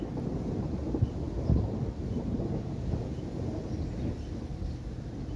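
A low rumble of thunder rolls steadily throughout, with a distant, heavy quality and some wind noise, and no voices.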